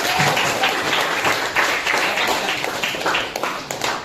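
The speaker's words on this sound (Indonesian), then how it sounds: "tepuk tangan untuk Taira." Classroom applause for a student after she answers a math question, a dense steady patter of many hands clapping for about four seconds with no talk over it.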